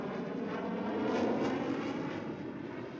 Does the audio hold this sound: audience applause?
no